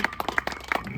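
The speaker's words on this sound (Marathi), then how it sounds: "सुंदर सुंदर गोलंदाजी जोरदार टाळ्या वाजवा" Scattered hand claps break out for good bowling at an outdoor tennis-ball cricket match, a short burst of uneven claps at moderate distance with no voices.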